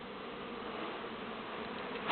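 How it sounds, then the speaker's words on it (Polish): A steady, faint buzzing of many yellow honeybees on an orientation flight around a hive, a continuous drone with no talking. "Tu jest, tu mam oblot. Ładny oblot jest. Pszczoły."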